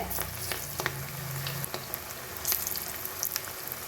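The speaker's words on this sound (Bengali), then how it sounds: "মিডিয়াম করে আস্তে আস্তে ভেজে নেব বাকি পকোড়াগুলো" Spring onion pakoras deep-frying in hot oil over medium heat, a steady crackling sizzle with scattered sharper pops and a brief low hum early on, close and without talk.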